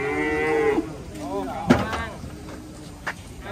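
A cow moos loudly and close, a drawn-out low bellow followed by a shorter second call, with thumps and background voices around it as agitated cattle are loaded onto a vehicle.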